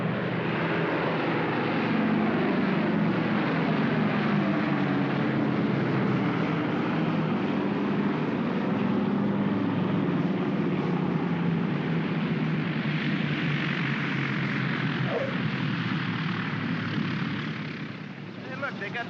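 A propeller airplane landing with full flaps gives a steady, loud engine drone that holds throughout, easing slightly at the end, with no talk over it.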